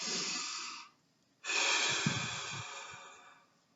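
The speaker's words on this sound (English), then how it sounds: "Take a deep breath." A slow, deep breath drawn in and let out close to the microphone, two soft airy swells separated by a short pause, with no talking.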